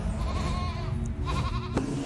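A sheep bleats in the video game Cult of the Lamb, one close, wavering bleat lasting about two seconds over a dense low background, followed by a brief click.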